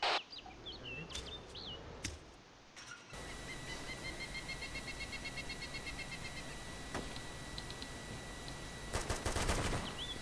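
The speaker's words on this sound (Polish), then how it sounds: "Jak czołg rozstrzeliwuje biednego wieśniaka z bronią." In a video game, a tank fires at an armed villager: bursts of rapid automatic gunfire, with sharp repeated shots over a steady background rumble and a loud cluster of blasts near the end.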